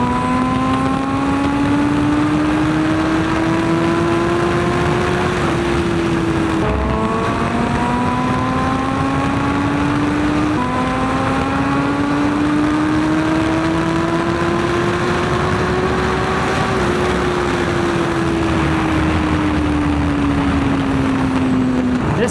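A motorcycle engine pulls hard in sixth gear on a group ride, its loud steady drone rising in pitch through several long climbs, with brief dips at the shifts, under constant wind roar.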